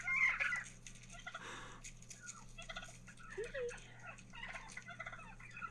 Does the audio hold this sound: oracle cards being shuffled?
no